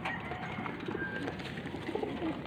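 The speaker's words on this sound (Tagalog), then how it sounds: "Ito mga kalapatids." Soft, repeated cooing from hungry racing pigeons, one carrying a 2022 club ring, in a quiet loft, the calls fairly close over a faint background hum.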